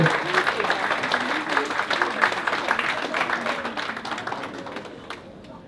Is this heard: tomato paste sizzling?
no